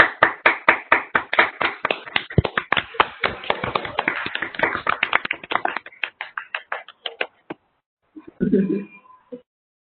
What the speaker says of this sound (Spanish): Le agradecemos mucho y le damos un fuerte aplauso